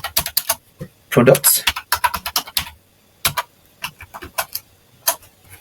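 Fingers tap quickly on a computer keyboard in uneven bursts of crisp, close clicks with short gaps, while a voice briefly speaks among the keystrokes.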